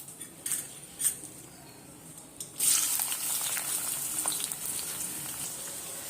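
Bay leaves and onion go into hot mustard oil in a kadai; a few utensil clinks come first, then a steady sizzle of frying starts and keeps on, quiet and close.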